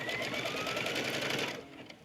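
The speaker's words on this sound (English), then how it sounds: "This step is actually going to stitch the fold over elastic in place so it won't shift on us." An embroidery machine stitching fold-over elastic in place inside the hoop, a fast steady mechanical whir running close and even before cutting off near the end.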